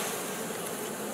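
Honey bees hum at an open beehive during a spring inspection, a loud, dense, unbroken drone of many insects close by.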